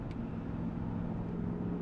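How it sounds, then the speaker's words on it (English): A Lexus LS400 V8 with universal mufflers, straight pipes and a resonator delete idles with its exhaust valves closed, a low, steady, muted rumble held close and even throughout. "Huge sound change when you close the valves."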